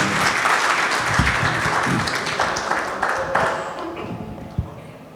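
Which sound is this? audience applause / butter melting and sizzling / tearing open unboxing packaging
audience applause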